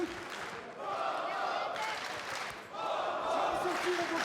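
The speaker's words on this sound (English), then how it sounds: "Partisan crowd really getting behind Morgane right now." Partisan crowd at a women's MMA bout between Morgane Dehaye and Veronica Grenno, roaring steadily behind Dehaye in a continuous wash of cheering and applause, with a brief dip before surging again.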